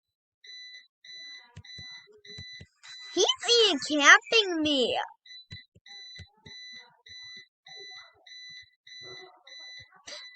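Faint electronic beeping repeats in an even rhythm in the background of a bedroom while someone talks excitedly over it partway through.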